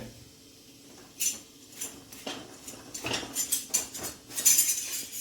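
Mustard seeds and cumin are tempered in a pan for dal, with light clinks and soft crackling pops that build into a busier, uneven patter toward the end.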